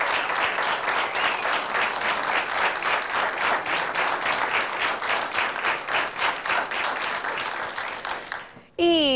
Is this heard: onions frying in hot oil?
no